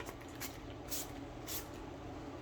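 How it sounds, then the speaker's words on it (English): Two short, hissing bursts of panel prep spray from a spray bottle onto a car surface stand out over a steady background rumble, spaced about half a second apart. "A couple sprays on the surface."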